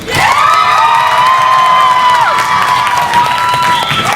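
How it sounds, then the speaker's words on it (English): A loud live crowd at an improv comedy match cheers, whoops and applauds for the blue team, high shrieks and shouts riding over dense clapping that stays full and close for the whole stretch. "Applaud louder for the team you want to win the next 5 points. Was it the blue team?"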